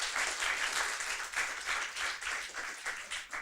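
Audience at a university summer course closing ceremony applauds the steering committee and staff, a brief, even wash of clapping with gentle swells, moderately quiet.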